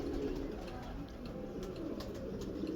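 A pigeon held in the hand gives soft, low cooing that sits under a constant hum of background noise. A few faint chirps are scattered through it.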